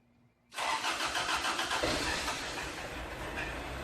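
A Toyota AE86 engine cranks and fires, then settles into a loud, steady idle close by, with no talking.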